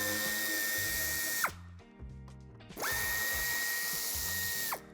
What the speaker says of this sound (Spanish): En ambos pasos de rueda tendremos que quitar los tornillos que sujetan el paragolpes.